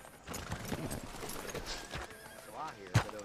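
A horse in a Western cowboy video game clip-clops along with clustered hoofbeats, then whinnies, its neigh rising near the end, while someone speaks over the hooves.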